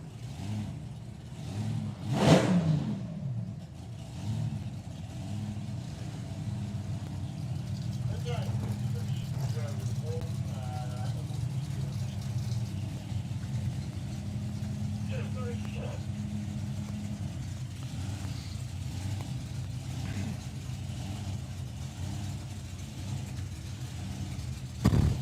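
A supercharged coupe drag car launches at a drag strip event with a loud burst of engine noise, then a sustained roar that recedes down the track, under continuous crowd and announcer chatter.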